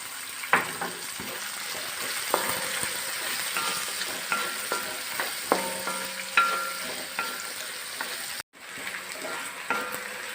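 Onions frying in a pan with turmeric and salt, a steady soft sizzle broken by repeated spatula scrapes and stirring clatters, close and clear with no talking.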